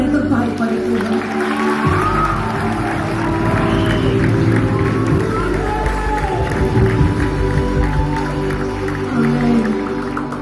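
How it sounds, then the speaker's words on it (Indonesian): A large worship crowd in a stadium gathering in Kuala Kapuas keeps up a broad, steady wash of clapping and cheering, with amplified voices and music carrying over it throughout. "boleh sekali lagi kita beri tepuk tangan yang terbaik pada Tuhan"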